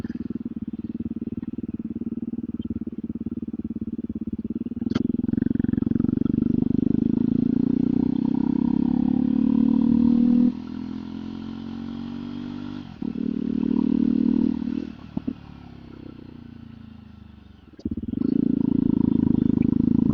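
A motorbike engine drones steadily as it is ridden, with the pitch rising and falling through shifts and throttle changes, loud and close throughout.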